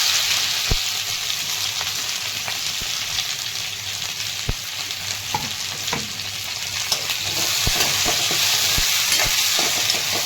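Okra frying in a pan with garlic as it is stirred, a steady close sizzle broken by sharp scrapes and clicks of a spatula against the pan, with no talking.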